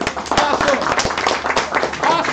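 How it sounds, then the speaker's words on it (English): An audience at a live event gives a round of applause, with dense clapping mixed with voices and cheering throughout. "Let's give a round of applause for that."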